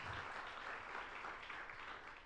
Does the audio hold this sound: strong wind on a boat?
no